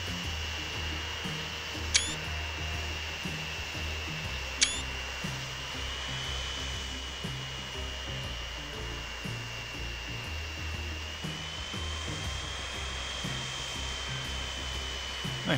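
An aircraft taking off in the Transport Fever 2 video game, heard as a steady, continuous whining roar with a high engine whine held throughout and two sharp clicks early on.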